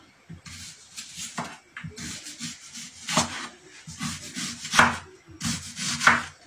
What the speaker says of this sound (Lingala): ngai nazokata matungulu